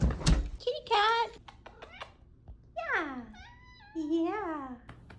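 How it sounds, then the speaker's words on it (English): A house cat gives a few short, rising and falling meows at close range, alternating with a person's voice. "Kitty cat."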